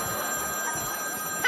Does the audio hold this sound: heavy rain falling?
no